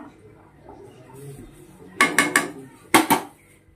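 Metal pots and lids clatter in a home kitchen during a search for a lid, a cluster of three sharp bangs followed by two more, loud and close after a quiet stretch.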